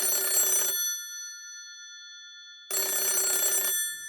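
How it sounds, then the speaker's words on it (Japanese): A telephone rings as a sound effect in a ghost story: two long electronic bell bursts separated by a silent gap, loud and clear with nothing else heard. "しばらく電話は不気味に鳴り響いていたそうです。"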